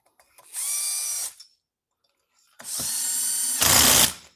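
An impact driver runs bolts into a Stihl 026 Pro chainsaw during a piston replacement. Two loud, close whirring bursts sound alone, the second longer and ending in harsher hammering.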